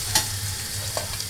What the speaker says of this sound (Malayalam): ഞാൻ ആദ്യം ഉള്ളി എണ്ണയ്ക്കകത്തിട്ട് മൂപ്പിച്ചു